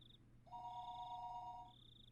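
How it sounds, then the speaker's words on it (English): A telephone rings in a quiet office, a high electronic trill broken by a lower two-tone warble in the middle, clean and moderately loud over a faint hum. "the phone began to ring again"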